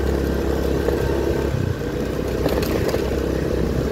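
A Honda Beat Street scooter with a fault that makes it hold the throttle and nearly stall runs steadily, its engine a continuous rough drone with light clatter, heard up close with no talking.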